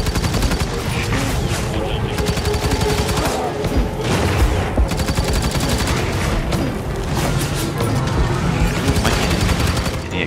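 Dense, continuous gunfire from the Firefall video game keeps up for the whole stretch, with rapid automatic bursts and heavy booming shots layered over one another. It is loud and close, and it sounds like chaotic combat.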